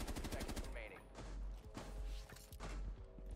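Rapid gunfire rings out in a Rainbow Six Siege match: dense, close bursts of automatic shots with sharp cracks and thuds, while voices murmur faintly underneath.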